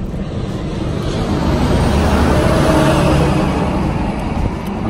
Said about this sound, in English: that truck was loud